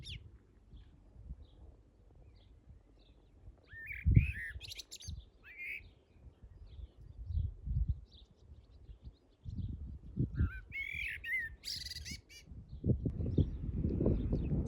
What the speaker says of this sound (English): there's a really lovely singing little blackbird that I'm going to show you